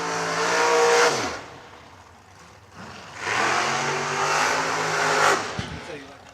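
Drag race cars at Kil-Kare Raceway during the TB Promotions 50K race, loud engines revving hard in two long surging bursts with rising pitch, close and dominant, followed by a brief sharp crackle.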